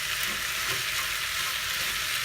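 Chinese spareribs sizzling in a pan with green onion just added, a steady bright crackling fry that stays even and moderately loud, with no talking.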